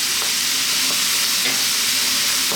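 Chili, turmeric, coriander and cumin powders are stirred into chicken noodles frying over very high heat, a loud steady sizzle with repeated scraping stirs.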